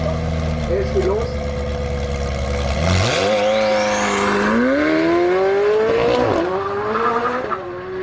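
A tuned 900 hp McLaren 720S accelerates hard in a loud, continuous engine roar that climbs steadily in pitch through the gears, with brief drops at the shifts. Speech is heard over it.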